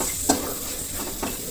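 Chilli chutney ingredients roasting in a pan over a low flame, a soft steady sizzle broken by two or three sharp scraping stirs of a spoon against the pan, with no talk.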